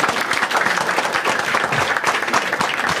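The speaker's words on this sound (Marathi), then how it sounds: "एकदा टाळ्या द्या दोघांसाठी" Audience at a Marathi stand-up comedy crowd-work show breaks into steady, dense applause that fills the room for the whole stretch without pause.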